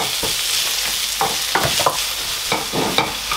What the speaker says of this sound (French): Je mets l'oignon premièrement.